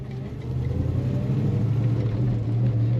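A 1969 Dodge Dart Swinger two-door hardtop pulls through a roundabout in second gear, its engine giving a steady, loud low rumble that swells slightly after the first half second and holds even, with no talking.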